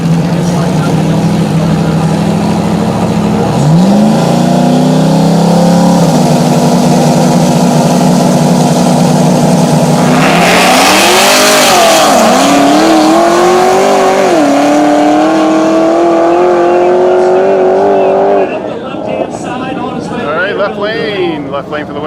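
No-prep drag race cars at KD Dragway launch and scream down the track, loud engines revving and climbing in pitch through gear changes over a continuous roar, with an announcer talking over the action.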